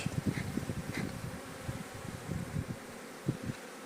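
Honeybees buzzing around an opened beehive during hive inspection, a dense low droning hum with brief louder passes of individual bees close by.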